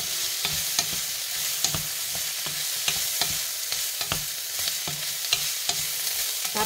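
Cabbage and leek stir-fry in a wok with a light sauce, a steady sizzle broken by regular scraping and tapping strokes of the spatula, close and clear with no talking.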